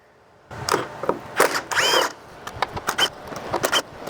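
Bolts being undone on the upper strut mount of a 2017 Dodge Charger R/T with a 13 millimeter tool: a close series of sharp metallic ratcheting clicks and short whirring bursts, irregular and loud, with no talk.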